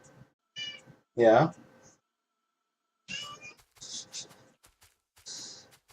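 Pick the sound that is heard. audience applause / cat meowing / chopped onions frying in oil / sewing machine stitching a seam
cat meowing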